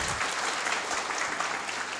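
Dense, steady applause from a large audience welcoming a speaker onto the stage at a Successmore business seminar, loud and continuous with no gaps.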